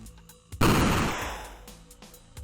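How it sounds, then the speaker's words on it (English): A single rocket launcher blast from an indie video game bursts in suddenly after a faint click, loud and close, then decays into a long rushing tail that fades over about two seconds. "let's swap out the Magnum sound with the new rocket launcher sound"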